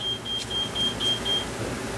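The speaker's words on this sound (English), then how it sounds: "That was my house beeping, by the way." A household electronic device beeps in a steady series of short, evenly spaced high tones, about six pips in a row, over a low rumbling background with no talking.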